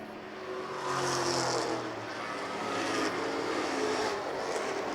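Pro stock race cars roar around a 3/8 mile oval in a continuous loud engine drone whose pitch rises and falls as cars pass. No speech.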